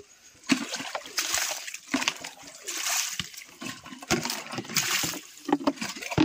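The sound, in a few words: water splashing while being emptied out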